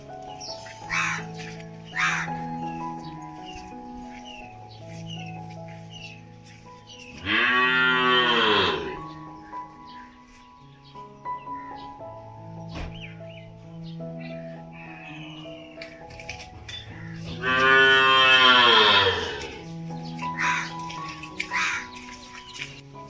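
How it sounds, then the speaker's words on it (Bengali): A calf gives two loud, drawn-out moos, calling for its mother cow at milking time on a rural homestead. Crows caw repeatedly in the background between the calls. "বাছুরটা চিৎকার করছে"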